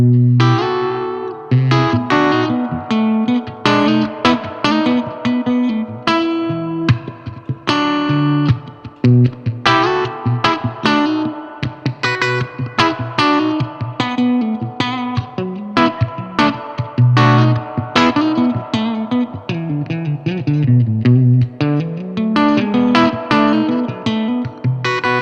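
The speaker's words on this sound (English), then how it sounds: "you can really hear how the amp breaks up." An electric guitar played through a Supro '64 Reverb amp pushed into breakup rings out loud and continuously, with driven, gritty chords and single notes ringing and overlapping alone for about twenty-five seconds.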